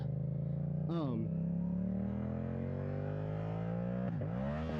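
A Yamaha R7 motorcycle engine holds a steady drone while riding, then blips sharply twice during quick-shifter gear changes, with rising and falling revs heard close up.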